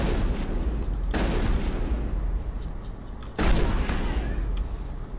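Heavy gunfire and booming blasts in the Mass Effect video game, two loud dense bursts over a constant rumbling battle bed, with no talk over them.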